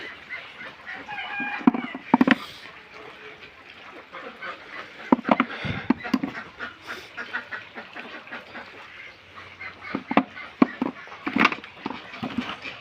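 Laying ducks kept on a farm call out in scattered, uneven quacks and clucking bursts, fairly close, with a steady murmur of flock noise between louder calls.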